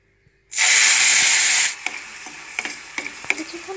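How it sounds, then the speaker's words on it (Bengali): Water poured into a pan of frying vermicelli for a crisp semai dish bursts into a loud, steady hiss for about a second, then settles into quieter sizzling with a few scattered pops and scrapes, with no talking. "কিছুক্ষণ ভেজে এবার আমি 1 কাপ পরিমাণ পানি দিয়ে দিব।"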